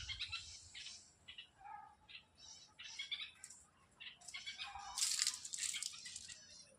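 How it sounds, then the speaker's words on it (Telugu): Several birds call and squawk in a guava tree beside a garden boundary wall, bursts of chirps and rattling calls coming in irregular clusters at moderate distance, growing louder and denser toward the end. "పిట్టలు అరుస్తున్నాయి చూడండి"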